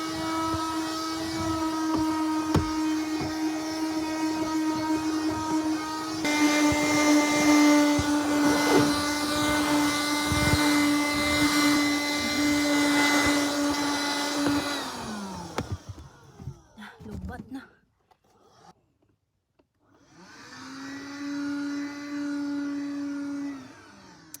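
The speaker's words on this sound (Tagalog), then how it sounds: "malapit na malubat ang vacuum" A cordless vacuum cleaner hums and whines steadily, shifting pitch as it moves, then briefly stops before starting up again with a rising whir.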